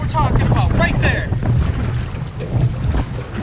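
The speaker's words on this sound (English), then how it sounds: "Wind blowing in so hard right here." Strong, gusting wind roars over a bass fishing boat on open water, loud and continuous, with buffeting wind noise on the microphone and a voice talking faintly beneath it.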